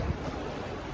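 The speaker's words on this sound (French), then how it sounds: "il y a de la houle" Sea swell surges around a sailing boat in about 10 knots of wind. It makes a steady, broadband wash of water, with wind noise buffeting the microphone throughout.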